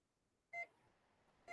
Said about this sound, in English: Okay, so that's got beeping in it